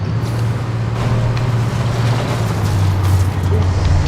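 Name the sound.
possessed tractor boss fight in video game Alan Wake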